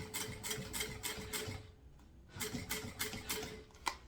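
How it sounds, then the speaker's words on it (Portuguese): A sewing machine runs a straight seam on satin in two quick bursts of rapid mechanical stitching with a short pause between, close and steady. "E aqui eu consegui começar uma costura bem retinha aqui, bem rente."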